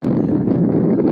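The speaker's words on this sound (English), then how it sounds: "A bit blustery this morning," Gusty coastal wind at Looe Bay in Cornwall buffets the microphone in a brief, loud, low rumbling rush.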